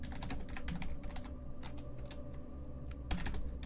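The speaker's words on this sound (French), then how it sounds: "On doit bien entendre mon clavier quand je tape." Rapid, crisp tapping on a computer keyboard while searching online during a gaming session, the clicks fairly close but riding over a constant low background hum, with no talking.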